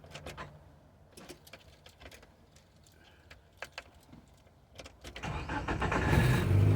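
A Geo Tracker with a small exhaust leak, just tuned up, is heard up close: keys jangle and clicks sound before the starter cranks and the engine catches, then a rough, loud idle runs on to the end.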